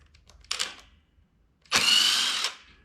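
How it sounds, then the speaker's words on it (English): Power tool removing the clutch bolt on a DR chipper shredder, a short whirring burst, a pause, then a longer louder run of close mechanical buzzing that stops abruptly. "now the next step is to remove the bolt that's holding the clutch on here"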